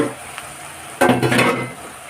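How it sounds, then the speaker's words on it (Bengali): Onions browning in hot oil in a pan: a quiet sizzle, then a loud burst of stirring and frying sizzle about halfway through that fades out, with no voices. "পেঁয়াজটা দেখুন আমার লাল লাল করে ভাজা হয়ে গেছে"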